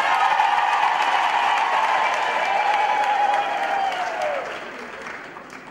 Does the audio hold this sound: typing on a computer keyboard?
no